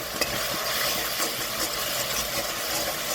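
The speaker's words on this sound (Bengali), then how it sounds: "নেড়ে চেড়ে মিশিয়ে নেব পেঁয়াজ রসুন আদা, ভালো করে নেড়ে চেড়ে ভেজে নেব" Chopped onion, garlic and ginger fry in a pan for fish kalia, a steady broadband sizzle with faint stirring scrapes running through, close and continuous without speech.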